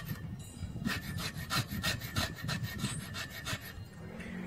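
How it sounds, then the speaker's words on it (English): A carbide scraper rasps rust off a metal part of an old International 3 HP type M flywheel engine, a close, rhythmic series of rough back-and-forth strokes. "we're going to remove that rust with a carbide scraper"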